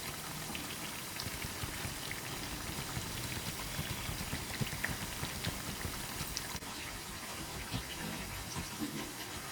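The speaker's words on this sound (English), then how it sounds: "They're frying out." Steady crackling sizzle of calabash (loki) bhajia frying in hot oil, a dense continuous spatter of tiny pops, close and even throughout.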